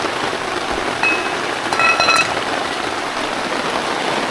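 Heavy rain pours steadily on an outdoor tree-house setting, a dense continuous hiss with a few faint clinks partway through.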